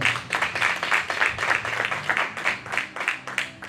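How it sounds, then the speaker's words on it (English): An audience gives a round of hand claps, with distinct rhythmic pulses of clapping at a steady pace, close and fairly loud, and no talking over it. "Let's give them another hand clap."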